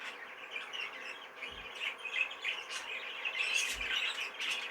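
A young bred bird calls with a series of squawky, chirping notes at a fairly quiet level, irregularly spaced over a soft background hush.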